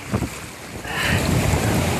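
Ocean wave splashing up over someone standing at the shore on a cold December day, a sudden rush of surf and spray after a gusty, wind-buffeted lull, close and fairly loud.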